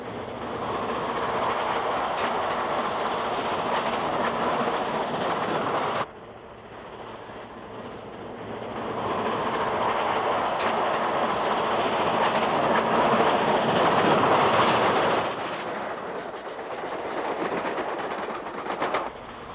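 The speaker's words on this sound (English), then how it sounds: "2576 races through Bainville, Montana with a mail train." Great Northern S2 class steam locomotive 2576 races past hauling a mail train through Bainville, Montana, a loud, steady rumble and rhythmic clatter of wheels over rails that swells, dips briefly and builds again across the run.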